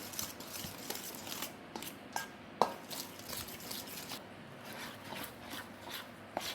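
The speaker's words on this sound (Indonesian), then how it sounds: "kita tuang tepungnya dengan perlahan ya. Sebagian dulu saya aduk." Flour being stirred into pizza dough with a spoon at home, giving soft scraping and rubbing strokes at a steady hand pace with one sharper knock near the middle, close and moderately quiet.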